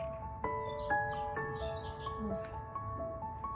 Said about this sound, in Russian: Птички.